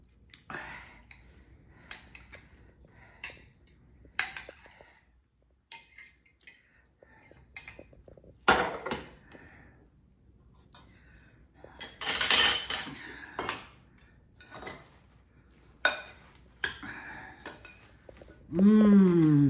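Forks tossing a Caesar salad with dressing in a bowl, producing scattered soft clinks and scrapes of utensils against the dish, intermittent and fairly close, with a louder burst near the end.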